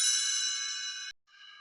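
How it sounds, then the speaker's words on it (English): Read-along page-turn chime: a bright, clear ding ringing and slowly fading for about a second, cut off, then a quieter second shimmering tone; close and alone, no voices. "You will know it is time to turn the page when you hear the chimes ring like this."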